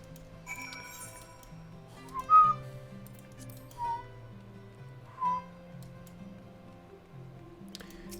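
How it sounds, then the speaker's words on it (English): Short, faint whistled notes from a person whistling into a microphone, three brief tones spaced a second or so apart over a soft background of video game music. "a microphone always has, like, trouble picking up whistling"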